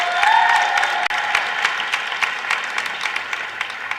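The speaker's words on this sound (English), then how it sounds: "Round of applause for Prexy." An audience at a student fossil-free campaign event applauds steadily, a dense wash of many hands clapping that gradually thins toward the end.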